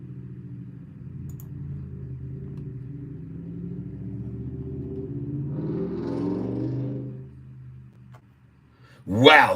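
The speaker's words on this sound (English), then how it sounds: "you just heard my son take off in his car" A car engine rumbles low and steady nearby, swelling as it revs and pulls away, then fading before a brief loud noise at the end.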